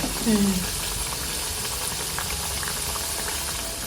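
Sweet stuffed pastries fry in hot oil until reddish and crisp, giving a dense, steady close-up sizzle and bubbling that holds evenly for a few seconds with a brief faint tonal sound near the start.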